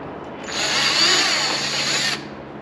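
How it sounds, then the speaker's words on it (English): A power drill bores holes into a Cadillac CTS-V Sport car body while a conversion kit is installed, one steady high whine lasting under two seconds, close and loud, with no talking. "I didn't tell Jennifer that we were drilling holes in her car today"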